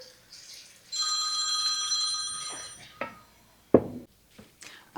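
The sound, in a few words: telephone ringing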